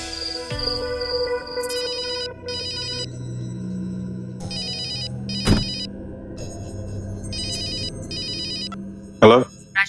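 A telephone gives a repeated electronic ringtone in short bursts over a low background hum in a TV crime drama scene, with a few sharp thumps near the end.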